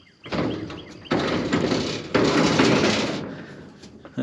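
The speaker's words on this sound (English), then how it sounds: "That door gets jammed." A jammed metal door on a dragline is forced open in three heavy grinding, scraping pushes, each a loud rough burst with short pauses between.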